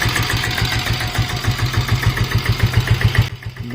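Close-up of a diesel Bullet motorcycle engine idling after a rebuild, a loud, steady rapid thumping pulse with a ticking injector clatter, cutting off sharply near the end.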